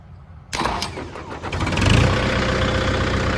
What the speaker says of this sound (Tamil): இப்போ வண்டி வந்து பார்த்திங்கன்னா ஸ்டார்ட் ஆகிடுச்சு